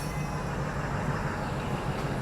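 A local passenger train moving past a platform at a busy Indian railway station, a steady rumble of wagons and wheels with a low hum, heard close and continuous.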